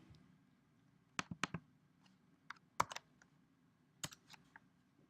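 Computer mouse clicks while working in Adobe Illustrator: several sharp, quiet clicks in small clusters, some in quick pairs, over a faint background hum with no talk.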